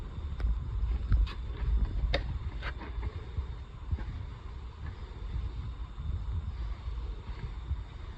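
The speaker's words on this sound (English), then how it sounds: "You can hear the sound of vermiculite." Vermiculite pool base mix spread and packed into a pool bed, a soft gritty crunching and scraping with scattered sharp clicks over a low wind-like rumble, close by with no talking.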